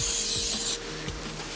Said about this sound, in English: spray it on your wheel